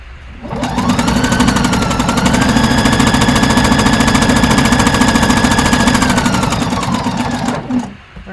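A sewing machine stitches a dress dart with a fast, steady mechanical chatter and whir that starts up, runs continuously for several seconds, then slows and stops, loud and close.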